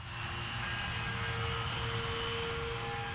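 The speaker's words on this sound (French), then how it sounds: "Les premiers avions de la matinée s'envoleront sous peu." Airplane engines at Manchester Airport in the early morning, a steady loud drone and hum running unbroken for the whole stretch, with no voices over it.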